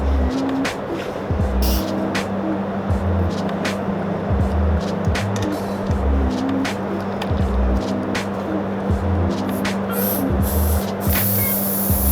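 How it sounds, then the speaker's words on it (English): An air compressor fires repeated short spurts of air into a tubeless bicycle tire on its rim, sharp hissing bursts at irregular intervals over a steady mechanical drone. "I'm blasting air, short spurts into this tire so I don't blow it off the rim"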